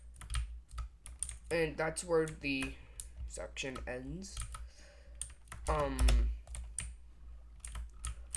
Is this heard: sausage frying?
no